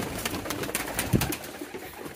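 Pigeons cooing nearby, soft repeated coos over a light background murmur, with one slightly louder call partway through.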